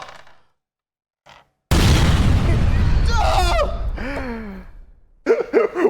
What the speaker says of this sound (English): That was the explosion of Meki pulling aside in the SUV, blowing the side of the train out